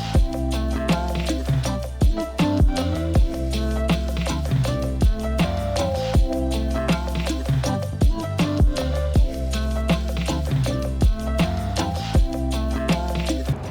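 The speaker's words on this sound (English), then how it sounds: "I've got construction going on the property just next to us" Construction work on the property next door, heard as a dense run of repeated sharp knocks and taps layered over a steady low mechanical rumble, loud and continuous throughout.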